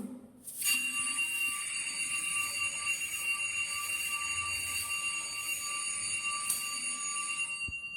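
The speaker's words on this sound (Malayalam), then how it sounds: "അലാറം അടിക്കുന്നു." An electronic alarm rings steadily, a bright pulsing beep repeating over and over, loud and close, with no voices.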